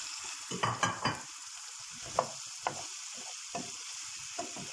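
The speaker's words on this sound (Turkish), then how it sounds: "Ve bu şekilde 5-6 dakika güzelce kavuralım." Squeezed eggplant pieces sauté in a pan with a steady, close sizzle, broken by several louder clattering stirs early on and a few sharper scrapes later, with no voices.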